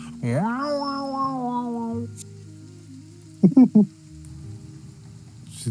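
A person mimics a loud cat yowl, a drawn-out wavering meow lasting about two seconds, followed after a pause by a few short sharp bursts and then quiet room noise.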